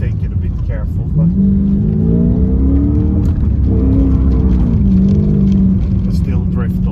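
A manual Porsche Panamera S drifts along a snow-covered road, its V8 exhaust holding a loud, steady rumble with rising and falling revs as the throttle changes.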